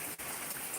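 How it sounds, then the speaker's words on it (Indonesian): Steady rain falls on a village in Indonesia, a dense even hiss of drops that stays at one level throughout with no other sounds. "Ini hujannya awal dari tadi 12 sampai sekarang masih hujan."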